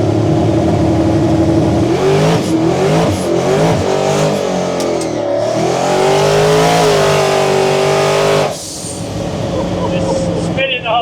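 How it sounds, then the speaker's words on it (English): A high-performance car revs hard and accelerates with its wheels spinning, a loud, close engine note rising and wavering for about eight seconds before cutting off abruptly, with some faint tire noise afterward. "that instantly just lit the wheels up"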